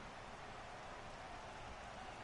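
Steady rain falls throughout a baseball video game, a broad, even hiss that holds at a constant level with no talk over it.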